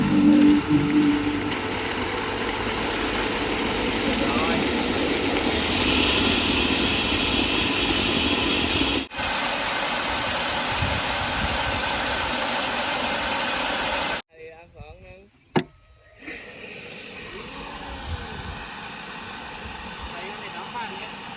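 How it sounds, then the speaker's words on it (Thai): A newly installed water pump starts and runs with a steady, close broadband whir. Partway through the sound cuts out abruptly, and a quieter, lower hum follows. "ปั๊มสตาร์ทแล้ว"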